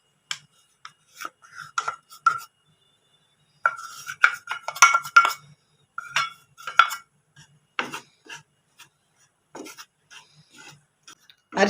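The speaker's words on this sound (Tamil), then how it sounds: "இந்த 1 கப் கோதுமை மாவை இந்த பேனில் கொட்டிட்டு லைட்டாக வறுத்துக்கலாம்" Wheat flour, one cup, being lightly dry-roasted in a pan for a Tamil sweet thattai recipe, with intermittent dry scraping and stirring scuffs of a spoon against the pan, close and crisp with quiet gaps.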